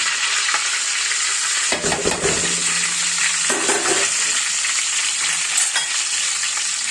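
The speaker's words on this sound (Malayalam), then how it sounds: "ഈ സ്പൈസസ് എണ്ണയ്ക്കൂടെ നല്ലപോലെ വാടുമ്പോൾ അതിൻ്റെ ഒരു നല്ലൊരു ഫ്ലേവർ കിട്ടും" Cloves, cinnamon and cardamom fry in oil in a pot with a loud, continuous close-up sizzle, broken by brief stirring scrapes.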